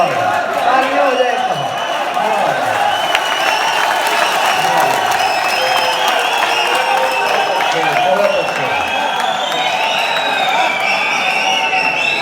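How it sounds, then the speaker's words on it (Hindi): Audience applause at a mushaira poetry recital, a dense, steady wash of clapping with scattered cheers lasting over ten seconds, loud and close throughout. "वाह, तालियां हो जाए।"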